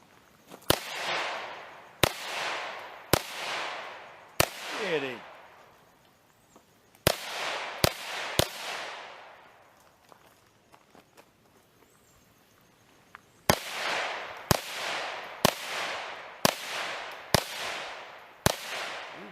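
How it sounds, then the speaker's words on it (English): A Ruger Charger pistol firing at an outdoor shooting range, sharp individual shots with echoing tails, spaced about a second apart in two strings separated by a quiet stretch, heard from nearby. "gonna be shooting the Ruger Charger here"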